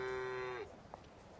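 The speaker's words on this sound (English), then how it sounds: "Damn, those cows need their food." A cow lets out one long, loud low moo in the Train Sim World 4 video game, then it stops, leaving quiet rainy ambience.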